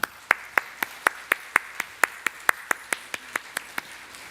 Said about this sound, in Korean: 자, 우리 인사할 때 다시 한번 같이 박수합시다.